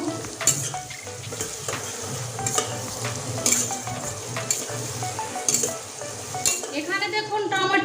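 Sliced onions sizzle in a pan with about two spoonfuls of salt while a metal spoon stirs them, giving repeated scraping clinks against the pan over a steady frying hiss.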